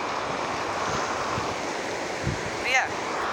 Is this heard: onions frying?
no